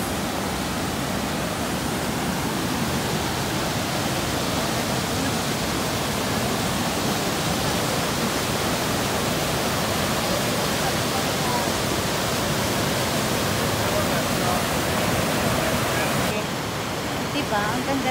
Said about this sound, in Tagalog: So this is Gardner Falls.